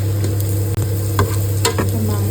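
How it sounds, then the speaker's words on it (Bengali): Onions frying with spices in a pan for a meat dish in a home kitchen, a steady close sizzle running throughout with a few brief scraping stirs. "মাংসের জন্য পেঁয়াজ ফোড়ন দিয়ে একটু ভাজা ভাজা করে"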